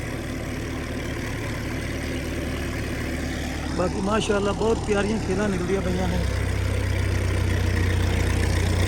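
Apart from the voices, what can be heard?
large tractor engine working a farm field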